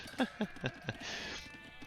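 Sheep in the Age of Empires II strategy game give four short, distinct bleats in quick succession, followed by a brief sustained hiss of game ambience, with no talk over them.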